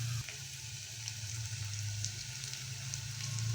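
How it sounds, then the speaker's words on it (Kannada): A small green chili fries with fenugreek leaves and mint in a pan for aloo paratha stuffing, giving a steady close sizzle over a low constant hum. "ಇವಾಗ ಜಸ್ಟ್ ಒಂದು 2 to 3 ಮಿನಿಟ್ಸ್ ಫ್ರೈ ಮಾಡಿದರೆ ಸಾಕು"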